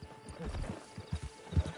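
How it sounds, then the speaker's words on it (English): Horse hooves clip-clop in a video game as a rider mounts. A few soft, uneven hoofbeats are heard up close at low volume under a faint background hum. "Get on the horse there."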